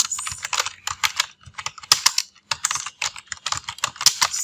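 Rapid, uneven keystrokes on a computer keyboard while entering sentences into MS Word, close and fairly loud, in bursts separated by brief pauses with no voices.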